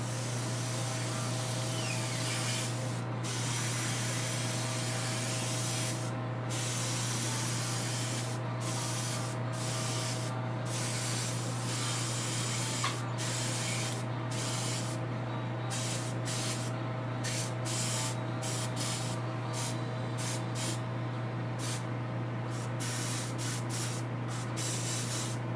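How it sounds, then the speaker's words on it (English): An airbrush or spray gun applying paint to a Jubilee X-Men model kit, a continuous steady hiss with a low constant hum underneath, broken by short bursts of higher spray noise throughout. "we're going to kick this on, and then we're going to spray down a little piece by piece."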